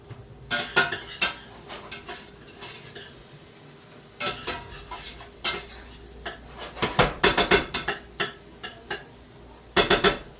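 A pot lid comes off in a home kitchen, and pans clink, knock and scrape in irregular close bursts, with a light sizzle in the quiet gaps between the clatters.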